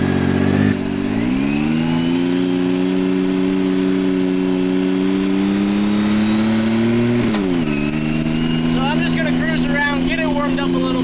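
A side-by-side engine revs steadily under load as the machine is driven, a strong sustained drone with a dip and re-rise partway through, followed by quick rising rev bursts near the end.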